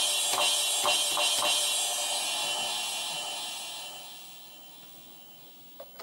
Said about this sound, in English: this is the hi-hat, simple.